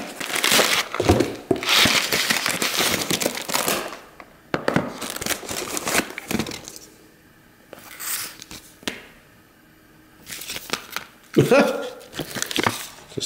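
Paper from a Sonos box being crumpled and crinkled in bursts, with loud crackling rustles at close range and quieter pauses between handlings.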